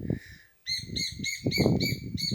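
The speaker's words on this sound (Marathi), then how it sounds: "तिकडे पक्षी ओरडत आहेत" Birds call outdoors in a mango orchard, with loud, close, repeated bright chirping phrases over low rustling and handling noise, after a brief pause near the start.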